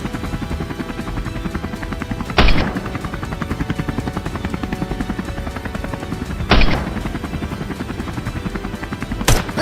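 Rifle shots ring out during a wild boar hunt, three sharp, loud bangs spaced several seconds apart over a steady, rapidly pulsing mechanical drone.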